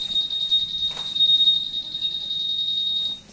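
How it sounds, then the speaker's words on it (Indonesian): A Honda PCX scooter's keyless anti-theft alarm sounds up close as a loud, steady high-pitched electronic beeping tone, nearly continuous with brief breaks, cutting off just before the end. "Alarmnya ya."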